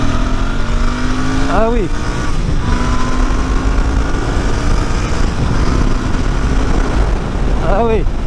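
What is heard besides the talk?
Royal Enfield Bear 650 motorcycle accelerating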